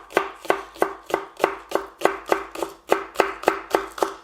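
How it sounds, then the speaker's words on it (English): A knife chops spring onion on a cutting board in a fast, even rhythm of about fourteen crisp thuds, close and clear with no voices. "you want to chop it fine, but not too fine"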